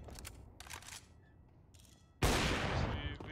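Gunfire in the game Counter-Strike 2: several short sharp bursts early on, then a loud sustained burst of shots and noise in the second half, fairly close and with no talk over it.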